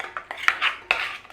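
Cranberry sauce stirred in a pot, a quick series of close metallic clinks and scrapes from a utensil against the pot, with no voices.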